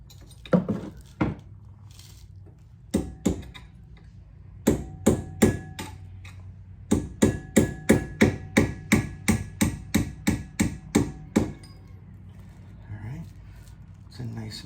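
Sharp metallic hammer taps on a Maserati GranTurismo brake job, tapping pins in, a few scattered strikes then a quick steady run of about a dozen, close and loud, with brief pauses between bursts.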